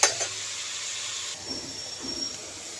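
Spinach leaves frying in a hot pan for a palak tomato dish, giving a steady close sizzling hiss that fades a little partway through, with no talking.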